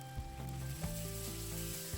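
Steady, close sizzling of yakisoba noodles frying in a hot pan with Worcestershire sauce, a continuous crackle with a few brief clinks of stirring.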